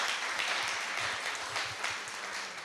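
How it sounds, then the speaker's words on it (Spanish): Church congregation at a Sunday service applauding a member named Cecilia, a steady wash of many hands clapping at moderate distance, sustained evenly throughout. "Vamos a darle un aplauso a Cecilia, que hace unas tareas hermosas."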